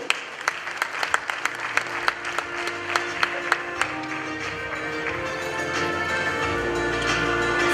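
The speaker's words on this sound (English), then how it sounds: "Shall we welcome him with a big round of applause?" Audience applause at a media awards ceremony in photojournalism, sharp individual claps early on merging into steady, sustained clapping from a large hall crowd, with no talk over it.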